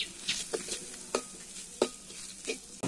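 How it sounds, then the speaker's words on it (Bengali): Ground turmeric, dried chili and coriander powders frying in a pan for a raw jackfruit curry, with a steady soft sizzle broken by repeated scraping strokes of a spoon stirring the spices, close and moderately quiet. "এখন নেড়ে চেড়ে মশলাটা ভেজে নিব।"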